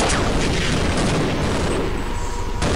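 A rocket launcher fires at a tank in Half-Life, a loud booming blast with a long rumbling, noisy tail that fills the clip before cutting off abruptly.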